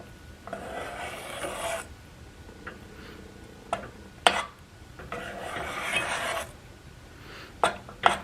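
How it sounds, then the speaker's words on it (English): A spoon stirs peanut butter or chocolate fudge in a pot in two long scraping passes, with sharp knocks against the pot's side between them. The sounds are close and clear, and nobody speaks. "just keep stirring so you don't see any chunks left in it"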